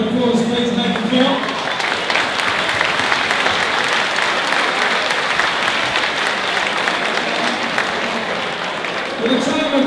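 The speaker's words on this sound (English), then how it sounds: "so give it a round of applause, please, thank you," A packed crowd at a Siam 2 Sydney fight event bursts into steady, loud applause and cheering that holds throughout, with an announcer's voice heard briefly at the start and again at the end.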